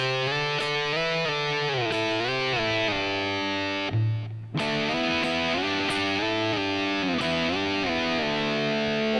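Distorted electric guitar in a rock lesson plays a sliding phrase joined to an earlier part, sustained notes gliding between pitches, loud and continuous with a brief near-silent gap midway.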